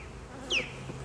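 Honey bees at a newly installed hive buzz faintly, with one brief, louder buzz as a bee passes close by.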